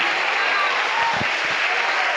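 A church congregation applauds during an evening worship service, a steady, dense wash of clapping that fills the whole stretch with no break.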